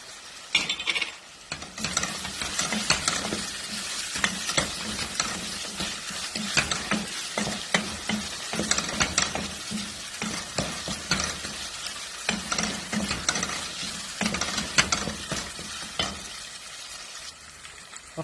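Tomato sauce sizzling in a frying pan as it is stirred in, a dense constant hiss with rapid scraping and tapping strokes of a utensil close up, no voices.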